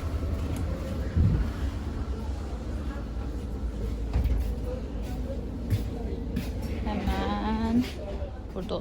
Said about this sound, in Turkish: Evet trenimize bindik ve yine kompartmanlı bir trendeyiz.